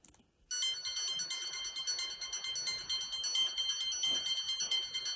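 After a brief silence, a bright electronic synth lead made in Reaktor plays a busy, bell-like melodic pattern, fairly loud and alone.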